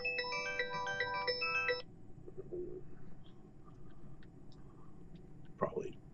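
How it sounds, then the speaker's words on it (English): A phone ringtone during a live stream plays a bright, repeating electronic melody for about two seconds, then stops, leaving quiet room tone with faint small noises and a brief low sound near the end. "Probably put my phone on mute for these streams in the future."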